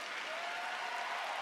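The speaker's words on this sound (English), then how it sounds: "The crowd on their feet to acknowledge the accomplishments of this man" A US Open tennis crowd on its feet applauds Roger Federer's three-set win over Novak Djokovic, a continuous, even roar of clapping from a large stadium audience, distant and sustained.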